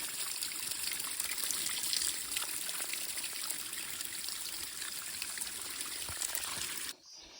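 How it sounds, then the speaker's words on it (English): Water drips and trickles steadily off rocks and through a leaf at a trail water source in the woods, a continuous close, bright patter that cuts off abruptly near the end. "I like this kind where it's just like dripping off the rocks."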